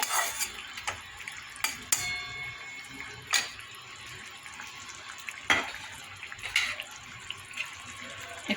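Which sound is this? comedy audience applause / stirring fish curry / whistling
stirring fish curry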